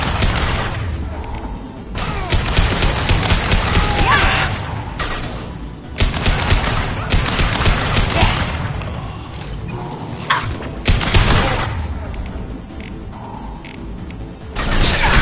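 Weapons firing in Mass Effect 2 combat: loud bursts of gunfire and crashing impacts come in repeated volleys separated by short lulls, with mechanical clatter between them.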